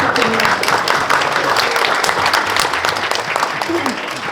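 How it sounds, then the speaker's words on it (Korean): An audience at a Pyeongtaek semiconductor industry forum applauds the introduction of a Chamber of Commerce chairman, a steady, dense burst of clapping filling the room, with a voice speaking over it. "뜨거운 박수 부탁드립니다"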